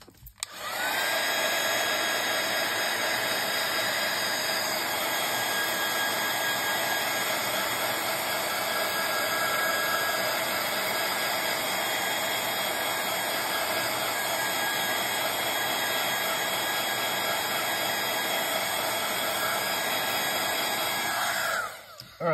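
A heat tool blows steadily over gold embossing powder on a tile, a loud continuous whooshing hiss with a faint whine that runs unbroken for about twenty seconds, then cuts off.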